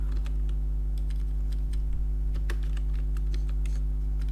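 Keys tapped on a computer keyboard while renaming a folder, scattered light clicks over a loud steady electrical hum, moderately close.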